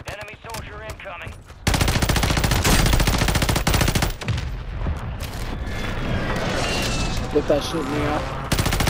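Loud, sustained automatic gunfire in the Call of Duty video game on Rebirth Island, with dense rapid bursts that fill most of the stretch. Someone talks excitedly over the shooting.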